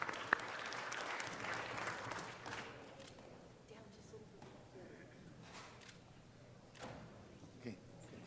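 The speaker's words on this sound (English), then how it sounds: "Let's give him another round of applause." Audience applause at a city council meeting, a faint, soft patter of clapping in the first couple of seconds that fades into quiet room noise with scattered light sounds.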